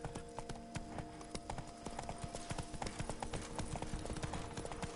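Horse hooves clip-clop in a video game, a quick, even trotting rhythm of crisp hoof strikes that stays steady and fairly quiet throughout.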